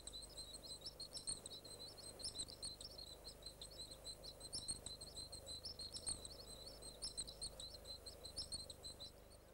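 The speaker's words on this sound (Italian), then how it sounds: "I neonati emettono in continuazione un pigolio molto simile a quello degli uccellini nel nido" Newborn hedgehogs in a woodland nest chirp continuously in high, rapid, bird-like twitters, steady and fairly faint throughout, with no voices.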